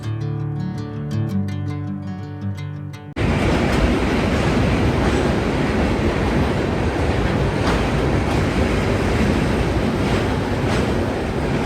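A passenger train running at speed after leaving Kharagpur, a loud continuous rumbling roar with rhythmic rattling of the carriages, heard from on board, following a few seconds of music.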